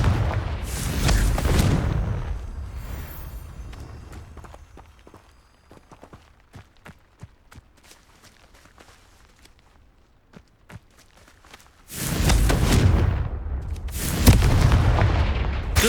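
A Confringo blast spell cast in Hogwarts Legacy on PC: loud fiery bursts open and close the stretch, with quieter scattered footsteps and small impacts in between and no talking.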